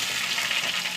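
Chopped banana stem frying in a pan with dried red chillies and curry leaves sizzles in a continuous, close hiss with slight rhythmic stirring pulses and no voices.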